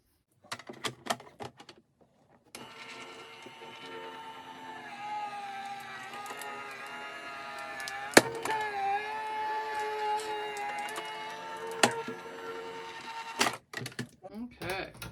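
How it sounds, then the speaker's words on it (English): An electric Sizzix Big Shot Switch Plus die-cutting chipboard, a steady motorized hum and whir that runs for about eleven seconds, preceded and followed by clicks and clacks of handling. "there it cuts with ease, the chipboard ones as well"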